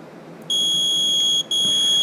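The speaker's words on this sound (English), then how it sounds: "then the low voltage alarm sounds" A Bloc Balancer on a big lithium-ion battery pack sounds its low-voltage alarm. It is a loud, steady, high electronic tone with one short break partway through, and there is no talk over it.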